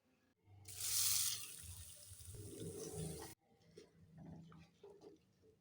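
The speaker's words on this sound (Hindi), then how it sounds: "अब इसमें पानी डाल देंगे।" Water pours into a cooking pot holding oil and cumin for basmati rice, with a loud splashing rush lasting a few seconds, then fades to softer bubbling and gentle liquid sounds, close by.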